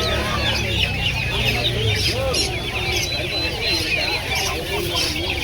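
A fighting rooster for sale at a Friday market in Pallavaram clucks repeatedly and close by amid busy market noise, with people talking throughout.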